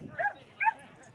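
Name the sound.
dog barking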